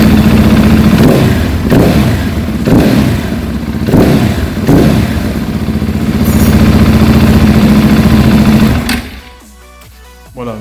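A motorcycle engine runs inside a garage with a steady, loud, close mechanical thrum and a few rhythmic throttle blips before cutting off near the end.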